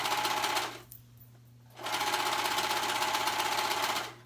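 Sewing machine stitching around the raw edge of a kid's hoodie sleeve, a steady close whir that stops briefly and then runs again at an even pace.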